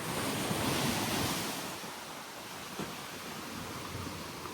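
Sea waves wash in at the Kannur sea pier as a broad, steady surf roar, louder at first and then easing, mixed with wind buffeting the microphone and no speech.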